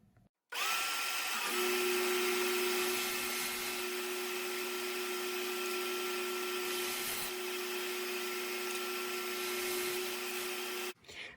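A Delta 10-inch contractor table saw spins up and rips a wooden insert blank to width, a loud steady whining hum with a high motor tone, then shuts off abruptly near the end, no speech.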